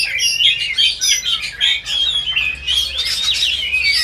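A black-breasted oriental magpie-robin sings loudly and close at a bird market kiosk, pouring out rapid, shrill chirps, whistles and harsh trills in unbroken bursts with hardly a pause.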